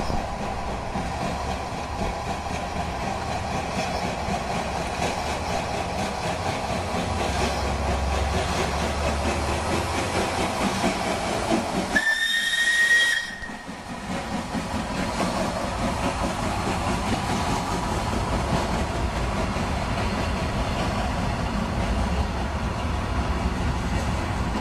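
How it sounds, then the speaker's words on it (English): Steam locomotive running through the Balkans, emerging from a tunnel amid steam and noise: a steady loud rumble of the train, with a sharp whistle blast near the middle followed by a brief dip and continued rolling clatter. "we can film the train coming out of a tunnel. All the atmosphere of smoke and steam and noise"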